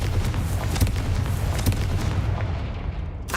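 Confringo explosion spell in a Harry Potter video game, heard as a dense, loud rumble of booming blasts and crackling bursts that runs continuously without talk.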